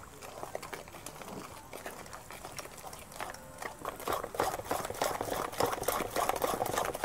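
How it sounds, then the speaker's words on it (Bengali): Cake batter of milk and food colour being beaten by hand for a noodle Christmas cake in a village kitchen, a steady rapid scraping and slapping rhythm that grows louder and busier toward the end, with no talk over it. "ভালো করে ফেটিয়ে নিতে হবে।"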